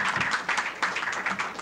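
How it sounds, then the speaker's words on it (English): An audience at a lecture applauds: a brief, dense burst of many hands clapping, steady and fairly loud, filling the room. "Nice round of applause, please."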